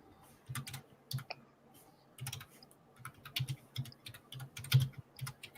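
Quick, irregular clicks of typing on a computer keyboard, close and fairly faint, in short bursts with brief pauses.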